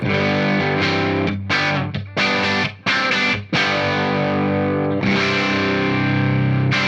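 Electric guitar chords through an analog pedal's clean setting with a slightly saturated, effected tone, several strums with brief gaps, then a long ringing chord fading out.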